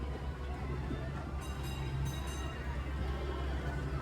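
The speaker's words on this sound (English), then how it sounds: "To our right is the Disneyland Railroad" The Disneyland Railroad train rolls past at a theme park, a steady low rumble under a continuous ambient wash, with faint higher tones midway that may be a distant horn or whistle; a voice talks over it.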